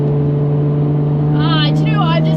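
A sports car engine holds a loud, steady low drone while driving, with a voice speaking over it near the end.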